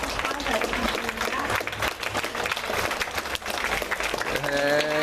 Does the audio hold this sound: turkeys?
no